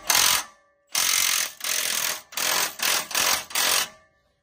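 Ratchet working an exhaust clamp on a 2023 Toyota 4Runner during a Carven exhaust install, heard as seven close, loud bursts of rapid clicking separated by short pauses.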